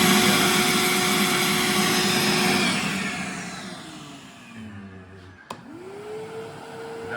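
A Ridgid shop vacuum roars loudly and steadily up close, then winds down over a couple of seconds, leaving a softer motor hum with a brief click near the end.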